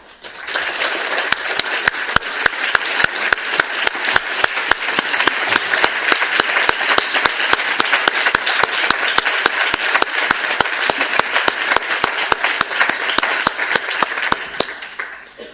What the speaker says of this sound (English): that applause also went to every one of the experts